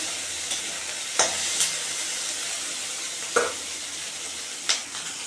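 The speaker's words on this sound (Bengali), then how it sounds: "আমি এগুলো ভাজা বসিয়ে দিয়েছি, এগুলো ভাজা হবে," Steady hissing sizzle of jackfruit seeds frying in a pan, with a few sharp clinks of a utensil scattered through, no voices.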